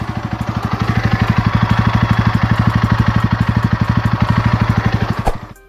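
A new motorcycle engine idles close by during a pre-delivery inspection, with a steady, rapid low chugging pulse that holds even and then cuts off at the end.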